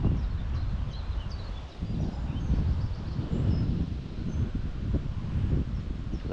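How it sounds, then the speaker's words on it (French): Wind picks up outdoors beside water at a fishing cabin. It comes as steady gusty buffeting and rustling against the microphone, rising and falling throughout with no talk over it. "Là, le vent s'intensifie un petit peu."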